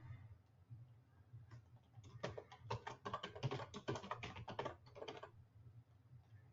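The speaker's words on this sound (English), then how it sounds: "And now my password is typed in." Quick, light keystrokes patter on a computer keyboard in a short burst of typing a password, close and crisp over a faint low hum.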